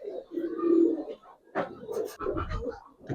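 Giribaz pigeons, an old breed of tumbler pigeons, coo in low, throaty, rolling bursts close by, with a pause and then a second stretch of fuller cooing and some handling noise.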